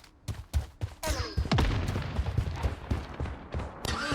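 Rapid bursts of gunfire in the video game Blood Strike during a ranked match, a string of sharp close shots and loud booms that come one after another, with an enemy sniper in the fight.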